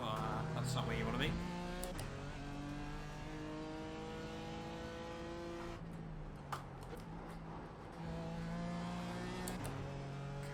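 A race car engine at Brands Hatch in iRacing's IMSA Pilot Challenge, revving hard through the gears with clear upshifts and downshifts, a voice talking over the steady engine drone.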